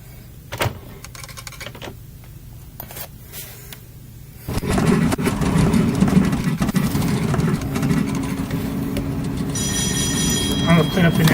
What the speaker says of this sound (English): All engines idle.